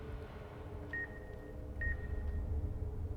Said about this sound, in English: There's beeping.